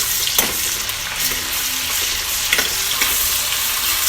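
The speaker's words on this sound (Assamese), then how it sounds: "এয়া নহৰু দি দিলোঁ" Crushed raw garlic sizzles in hot oil with whole cumin seeds for a village-style Assamese chicken curry, a loud, close, steady crackle broken by intermittent stirring scrapes.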